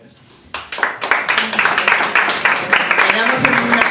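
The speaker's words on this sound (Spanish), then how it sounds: "Le damos un aplauso a los dos" Audience applause after a talk starts abruptly and builds into a dense, sustained round of many people clapping, close and fairly loud, with some voices mixed in underneath.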